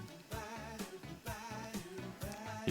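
Chord playback at the advanced level in the Jamzone music app: a full band backing track with steady drum hits under dense, sustained harmony, moderately loud, with no talking.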